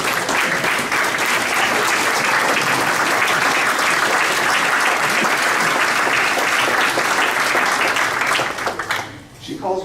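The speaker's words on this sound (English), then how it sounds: "Can I have a round of applause for my mom, Katie Morin?" Audience at a community event hall giving loud, sustained applause for nearly ten seconds, dense and even, dipping briefly at the very end.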